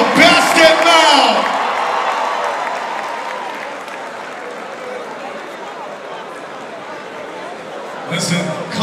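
A live comedy crowd roars with cheers, whoops and applause for comedian Basket Mouth. The noise swells loudly after a voice at the start, then settles into steady clapping before rising again at the end.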